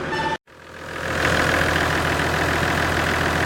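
A Toyota Land Cruiser FZJ80 with a 4.5 liter diesel engine idles close by, a steady low rumble that drops out briefly near the start and then settles back to an even, continuous drone.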